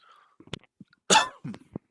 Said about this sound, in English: I don't know why I need to cough today